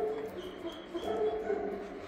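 A dog whimpers and whines softly during a visit to a free veterinary clinic, a thin, wavering, high-pitched sound that rises and falls for a couple of seconds at close range.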